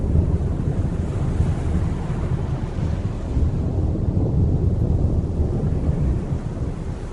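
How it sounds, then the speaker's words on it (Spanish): Crashing ocean surf rolls continuously at a steady loud level, a broad rumbling wash of big waves with wind-like roar and no pauses, standing in for tsunami waves striking a coastal city. "Las olas de hasta 18 metros golpearon la ciudad con furia incontrolable."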